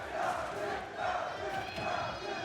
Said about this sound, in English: Crowd's coming alive.